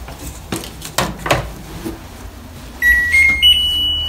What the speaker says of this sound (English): made like three little beeps